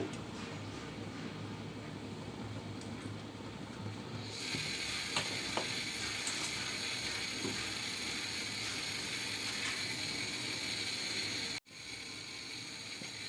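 Oil heating in a pan for raw churi fish gives a continuous sizzle. It grows noticeably louder and brighter partway through and then crackles steadily, with a brief dropout near the end.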